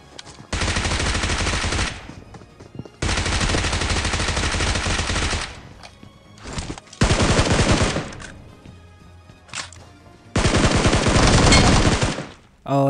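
Loud automatic gunfire bursts in BGMI during a squad wipe, four long sustained volleys separated by short pauses with quieter game sounds between, no talking.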